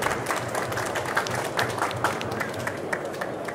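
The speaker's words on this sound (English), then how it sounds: "Please applause." Audience applause at a corporate award presentation for a robotics company, a steady crowd of clapping with distinct individual claps standing out, alone and fairly close.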